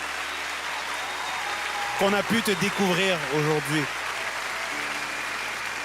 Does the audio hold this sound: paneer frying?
no